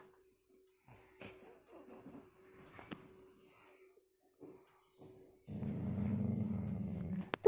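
A low, rumbling growl from a puppy builds near the end, after scattered quiet sounds and brief soft noises.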